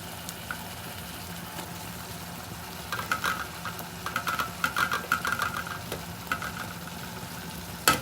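Grated carrot sizzles in a pan with tomato, capsicum and onion, a steady close frying hiss broken by bursts of crackle and stirring scrapes midway, with a sharp clack at the end.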